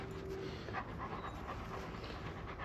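A big, still-growing pup panting quietly and steadily indoors, a soft rhythmic breathy huff repeating through a low room hum.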